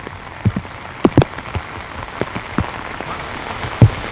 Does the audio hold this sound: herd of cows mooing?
no